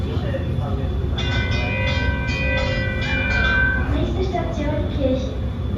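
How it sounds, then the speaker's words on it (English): A cable-pulled subway train on the Serfaus U-Bahn in Austria rumbles steadily as it eases to a stop, rocking to line its doors up with platform screen doors, with faint tonal chimes and squeals and a voice talking over the noise. "the train rocks forward and back as the train doors line up with the platform screen doors"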